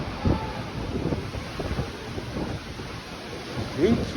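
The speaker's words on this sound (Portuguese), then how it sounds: "foi tempestade, gente" A heavy rainstorm with strong wind sweeps over a rural farm, a dense, steady roar of rain and gusts buffeting the microphone, with brief low rumbles.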